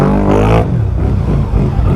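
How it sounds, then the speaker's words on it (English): A modified Can-Am Outlander XMR ATV with a loud aftermarket exhaust revs hard nearby. The engine snarls high, then drops to a rough, rumbling idle under load. "That exhaust is loud."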